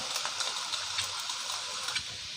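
Shrimp and glass noodles being stir-fried in a pan, a steady faint sizzle with light scraping and stirring clicks throughout.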